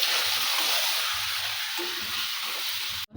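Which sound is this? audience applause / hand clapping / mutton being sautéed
mutton being sautéed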